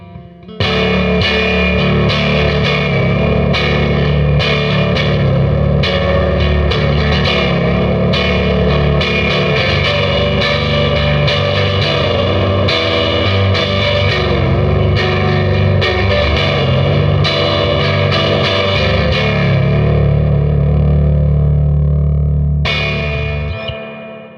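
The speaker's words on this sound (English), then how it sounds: "So that gives you an idea of some of the overdriven tones, particularly with the EP Custom fat pickups" Fender Jazzmaster with EP Custom pickups wired in parallel, played through heavy overdrive with effects and some echo, a dense sustained run of chords and picked notes lasting over twenty seconds, loud and close before a brief final strum.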